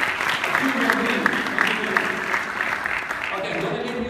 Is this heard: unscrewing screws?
no